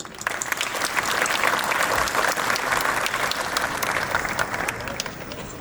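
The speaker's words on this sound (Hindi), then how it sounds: "ये कमांडो है हकदार, ताली हो भरपूर।" A crowd applauds commandos at an Independence Day event at Chandigarh International Airport, with sustained, loud, even clapping running throughout.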